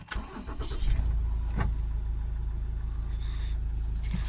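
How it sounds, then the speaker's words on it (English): A Toyota RAV4 2.2 D4D diesel engine with a particulate filter fault cranks briefly and catches, then settles into a steady, loud, low rumbling idle close by. "Let's start the engine back up again."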